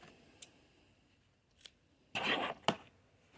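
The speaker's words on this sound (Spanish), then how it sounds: "Cortamos el hilo" Scissors snip through crochet yarn while finishing a crocheted rose, a few faint clicks followed by a louder, close double snip near the end, with no talking.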